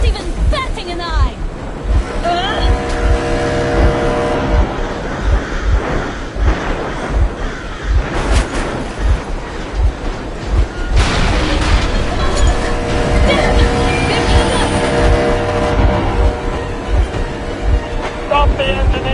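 A boat engine runs steadily in the video game Metro Exodus, a continuous loud rumble and churn with wash-like noise that stays dense throughout, briefly easing before swelling again.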